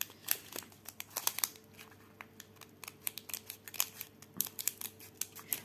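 Small old dressmaking scissors snip at plastic sachets in a long run of quick, crisp clicks and crinkles, close and fairly quiet, with brief pauses between bursts of cuts.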